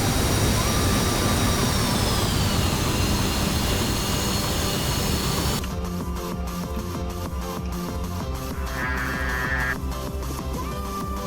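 A MiG-28 jet engine roars in a video game, a loud continuous whine and rumble that shifts in tone partway through and turns more textured and fluttery, with no voices over it.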